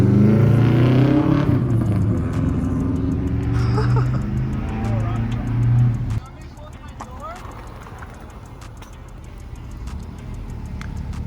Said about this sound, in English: Connor doesn't have a muffler right now.